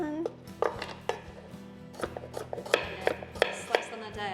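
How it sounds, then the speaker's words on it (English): A knife slices vegetables on a cutting board in a kitchen, making a string of close, crisp taps and cuts at an uneven pace, with light clatter of dishes between strokes. "Slice on the diagonal."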